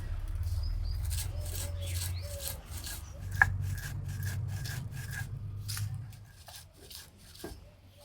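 Fried whole spices for mango pickle being crushed into a coarse powder, a close rhythmic grinding and rubbing with repeated scraping strokes and an occasional sharp knock, steady for several seconds before thinning out.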